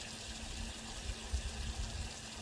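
Water rushing steadily from a freshly jetted well, a continuous low gushing wash with a faint steady hum beneath it, close and unbroken with no voices.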